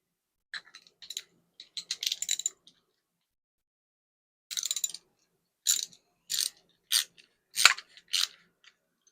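A nut is tightened onto the bolt of a black 13-inch car seat belt extender, giving short bursts of quick metallic ratcheting clicks in two groups separated by a pause, close and crisp.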